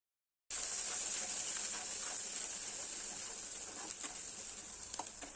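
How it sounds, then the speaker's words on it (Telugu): Ginger garlic paste frying in a pan, a steady bright sizzle and hiss that starts abruptly and holds constant, with occasional small pops and crackles and no voices. "అల్లం వెల్లుల్లి పేస్ట్ వేసి పచ్చివాసన పోయే వరకు వేగించాలి"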